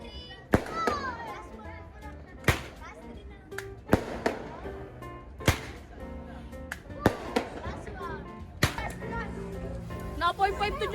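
Christmas fireworks go off as a series of sharp roman candle shots, roughly eight loud pops spaced about a second apart, with crackling between them and children shouting and chattering throughout.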